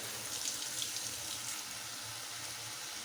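Water pours steadily into a pot of cooking curry on a kitchen stove, a continuous hiss and splash heard close and alone for a few seconds.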